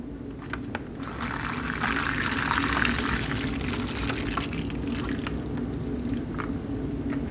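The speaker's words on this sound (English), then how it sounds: "I'm going to add just about 10 ounces of water here." Water is poured from a cold-weather ration kit into a Tropical Punch drink pouch. A steady, close gurgling fill runs continuously for several seconds and grows slightly fuller as the pouch takes on liquid.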